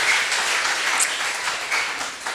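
A church congregation applauds during a Sunday worship and praise service, a steady wash of many hands clapping together at moderate loudness throughout, with no voices rising above it.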